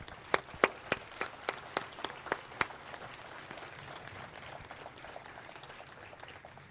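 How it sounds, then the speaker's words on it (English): Applause from an outdoor ceremony audience at a National Airborne Day event, opening with a run of sharp, separate claps before settling into a steady, moderately distant wash of clapping. "Let's give them all a big round of applause."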